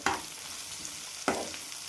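Cashews dropped into hot oil for vegetable upma give two quick sizzling bursts, one at the start and another about a second later, each fading into a soft frying hiss.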